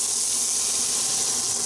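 Hot oil sizzles in a pan while pork shoulder, gravy and fried potatoes are cooked, a steady bright hiss with no talking over it.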